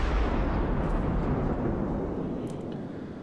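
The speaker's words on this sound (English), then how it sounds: "Throwing out some torpedoes." Torpedoes launch from the Japanese heavy cruiser Myoko in a World of Warships naval battle, a heavy, rumbling whoosh of low-end mechanical noise that stays loud and steady, then eases slightly toward the end.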